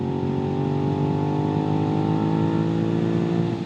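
A Suzuki SV650 motorcycle pulls in fifth gear, its engine a continuous close drone that climbs gradually in pitch, steady and loud throughout with no speech.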